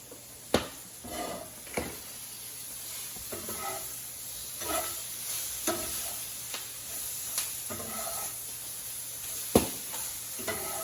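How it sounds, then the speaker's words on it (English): Shishito peppers sizzle softly in a pan while being stirred, with a faint continuous frying hiss broken by a series of sharp scraping and clacking strokes spaced a second or so apart. "Now that they're becoming softer, now is the time to stir them almost constantly."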